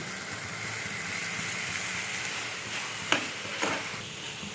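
Masala for a capsicum tomato gravy frying in a pan, a quiet steady sizzle with two sharp clinks of a utensil near the end.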